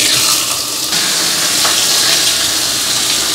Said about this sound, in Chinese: 一開始咧就放啲魚落去煎啦